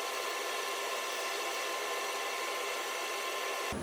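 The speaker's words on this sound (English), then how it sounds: "we're going to do a dress on the wheel and use our ears to make sure the dress is good" Grinding wheel being dressed on a grinding machine, giving a steady, even rushing hiss that holds without change and cuts off abruptly at the end.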